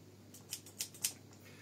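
Trauma shears from an individual first aid kit are handled, giving three sharp metallic snips or clicks in quick, even succession, close and crisp against a faint background hiss.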